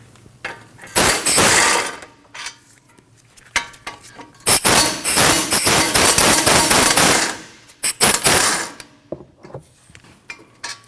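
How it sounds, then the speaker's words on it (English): A power impact wrench on the 18mm caliper bracket bolts of a 2013-2019 Ford Escape during a front brake job, with loud rattling hammering bursts separated by short pauses. "Your caliper mounting bracket is held on by 2 18mm bolts. You need to remove those."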